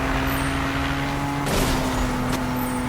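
A car engine in the PS4 racing game Need for Speed holds a steady droning hum, with two brief whooshing bursts partway through. No one talks.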